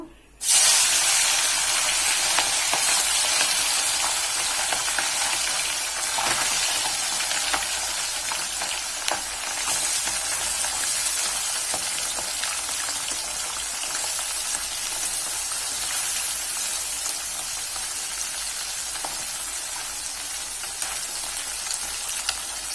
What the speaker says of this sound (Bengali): আবারও তেলে মাছ দিয়ে দেব